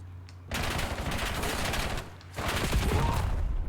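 Automatic gunfire during a gunfight in the shooter Black Ops 7, two sustained rapid bursts of close, loud shots separated by a short gap, with no talk.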